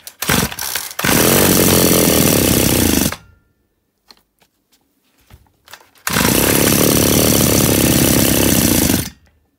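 Chainsaw with a fault that makes it run briefly then stop: two loud, close bursts of high revving of about two and three seconds each, separated by scattered clicks and quiet moments, with no talking.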